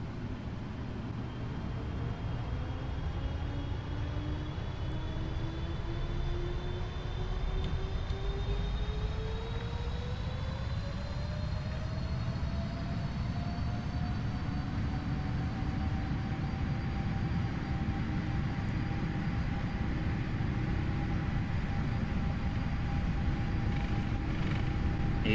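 Airliner engines spool up and roar steadily through a takeoff roll in the Prepar3d flight simulator, a Qatar Airways flight departing Mexico City, with rising engine whine climbing in pitch over a constant loud rumble and no talk.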